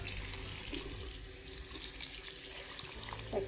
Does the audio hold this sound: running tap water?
yes